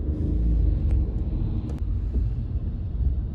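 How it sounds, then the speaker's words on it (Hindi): A car on the road in Lucerne, Switzerland, heard as a steady low engine rumble that is fairly loud and close, with a few faint clicks and no talking. "पीछे जा रही है गाड़ी"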